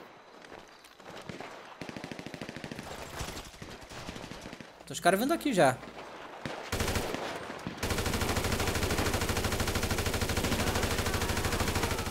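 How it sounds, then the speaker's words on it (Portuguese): Gunfire rings out in the video game GTA V, a close, rapid burst of automatic shots ending in a louder, denser stretch of sustained firing, with someone speaking briefly over the start. "eu tô atirando sem a mira automática"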